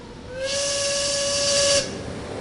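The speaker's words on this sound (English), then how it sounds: "You didn't just blow the whistle, did you?" A ship's steam whistle on the Titanic in a video game sounds one long, loud, steady blast with a hissing rush of steam, lasting over a second before it stops.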